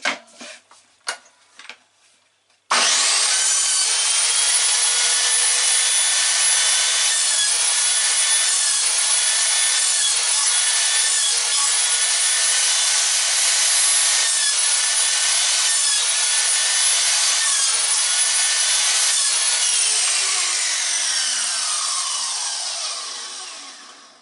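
Silverline 1400W mitre saw with a new blade: a few light clicks, then the motor whines up sharply and cuts through wood in a long, loud, steady grinding buzz of about twenty seconds that winds down at the end.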